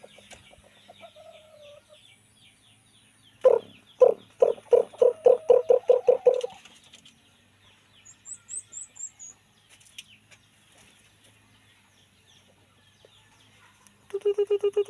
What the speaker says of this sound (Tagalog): yung labuyo ko canter na nakuha ko kahapon kantero oh